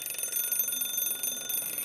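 An alarm clock rings in a steady, shrill, high-pitched electronic pattern at moderate volume throughout, heard from a hall during a minister's speech at a health-care event.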